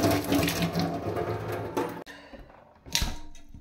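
Tomatoes being rinsed under a running kitchen tap, the water streaming steadily with clunks and splashes of handling, briefly stopping and then resuming, close by with no talk.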